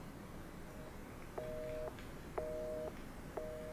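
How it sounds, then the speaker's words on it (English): Dead telephone line tone in the Resident Evil 7 video game: a faint electronic two-tone beep repeating three times in a steady rhythm over a soft background hiss. "Line's dead, of course."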